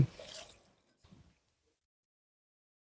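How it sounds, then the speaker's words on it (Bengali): Grated coconut squeezed by hand with a little water to press out coconut milk for a duck curry: a short, close, wet squish at the start, a second brief squelch about a second later, then quiet. "এখন আমি খুচলাইয়া নারিকলের দুধটা লই লিম তরকারির লাগি। সামান্য পরিমাণে জল দিয়া আমি খুচলাইম।"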